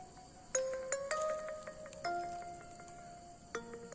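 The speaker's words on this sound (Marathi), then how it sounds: "ते सुजनचा फोन आला" A phone ringtone plays a bright, chiming electronic melody of several tones, repeating phrases clearly and fairly close, with no voices.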